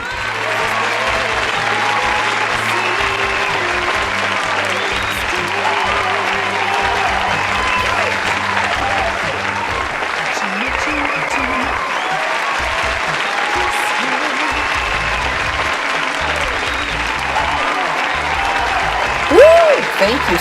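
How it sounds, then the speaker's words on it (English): Sustained applause from a studio audience on a talk show, dense and loud clapping that stays even for about twenty seconds, with cheering and crowd voices mixed in and a small swell near the end. "I absolutely love to get all that applause."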